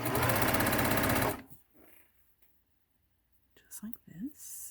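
A sewing machine stitches fabric ties for a face mask in a fast, loud whirring burst that stops abruptly, followed by near silence and then a soft voice speaking.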